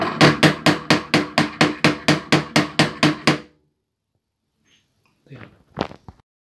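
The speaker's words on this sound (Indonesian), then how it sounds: "Kita dapat memilih antara 250 tumbukan per menit atau 300 tumbukan per menit" A tapped density tester strikes a powder sample in a fast, even run of about a dozen loud mechanical taps, then stops, leaving near silence broken by a few faint clicks and shuffles.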